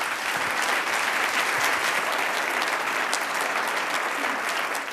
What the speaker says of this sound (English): will you join me in one more round of applause for these two amazing kids?